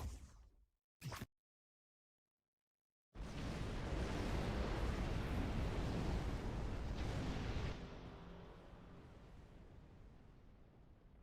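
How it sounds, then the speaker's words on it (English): Explosions in an online space video game: a short burst and a brief pop, then silence, then a long, loud roaring rumble lasting several seconds before easing into a lower sustained rush. "I do like seeing the explosions though as I get in range."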